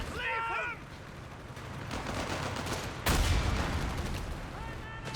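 Gunfire in a Company of Heroes 3 two-versus-two match: rifle shots and the crackle of combat over a busy battlefield din, with one louder burst near the middle, under game sounds.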